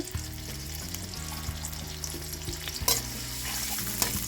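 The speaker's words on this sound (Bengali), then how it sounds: "এখন ভেজে নেড়ে নিচ্ছি" Half-ground Indian garlic paste and two chopped onions fry in a pan with a loud, steady sizzle, stirred with periodic scraping strokes, close up and continuous, with no talking.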